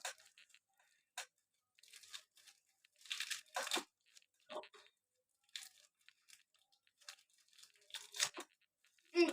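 Football trading card packs being opened by hand, with repeated crisp tearing and crinkling bursts of foil wrappers, close up and irregular, separated by brief pauses.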